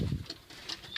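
Pigeons in a loft give soft, faint cooing and rustling, with a few short bright chirps over low muffled handling noise, and no talking.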